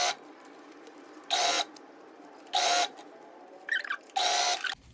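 A sewing machine stitching a folded fabric hem, about one centimetre deep, on a drawstring bag: three separate loud bursts of rapid mechanical whirring, each about a third of a second long, with quieter handling noise between them.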